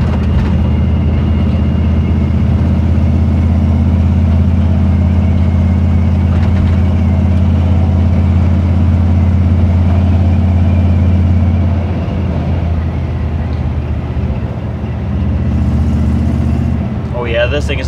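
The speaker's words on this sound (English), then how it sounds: "when you really rev it up." Car engine revved hard, a loud, close, steady low roar held for many seconds that eases slightly near the end, with a brief voice at the close.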